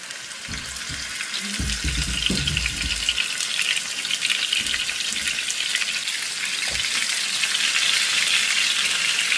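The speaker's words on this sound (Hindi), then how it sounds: "तो मैरिनेट किया हुआ चिकन अब हमने डाल दिया है फ्राई पैन में।" Marinated chicken frying in a pan of hot oil, giving a steady loud sizzle with a few low clatters of the pan early on and no voices.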